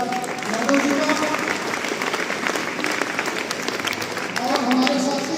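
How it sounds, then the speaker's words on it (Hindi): Applause from an audience at a college event in India fills the whole stretch, a dense steady clatter of many hands with voices and cheers mixed in, staying loud throughout. "एक बार ताली बजाइए अपने भाई दादा यादव जी का।"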